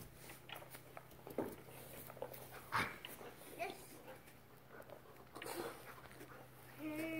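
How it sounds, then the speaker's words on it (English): A playful, excited dog panting and whimpering outdoors near a playground slide and swing, with soft snuffles and brief whines under faint children's and adult voices. "What a silly dog."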